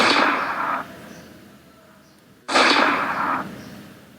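Two identical synthesized gunshot bursts from a simple C# video game, each a bright hissing blast lasting under a second and then fading, spaced about two and a half seconds apart.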